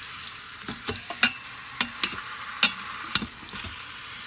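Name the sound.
pork searing in an Instant Pot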